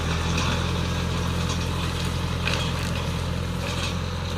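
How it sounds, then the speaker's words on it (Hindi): A large tractor harvesting sugarcane in a field, its engine giving a steady, loud, droning rumble with a constant low hum and faint crunching texture, unbroken throughout. "बड़े ट्रैक्टर से कटाई चालू है इनकी।"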